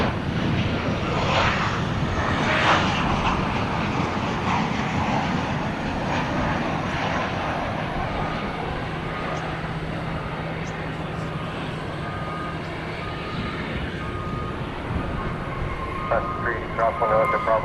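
A British Airways jet airliner approaches DFW Airport at night near Terminal D, producing a broad, sustained engine roar that is loudest early and slowly eases, with people talking over it.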